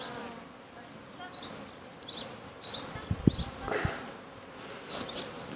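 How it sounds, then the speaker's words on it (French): A small bee buzzes faintly outdoors, its drone soft and low against quiet background noise, with a few brief high chirps and light knocks scattered through. "Ah, une petite abeille."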